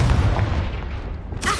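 Confringo blasting spell detonating in Hogwarts Legacy, a loud rumbling boom with heavy low-end that decays over a second before a brighter burst of crackle near the end.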